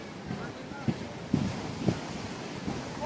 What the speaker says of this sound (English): the waves are coming just near about our feet